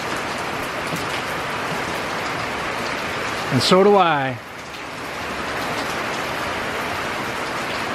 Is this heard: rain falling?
yes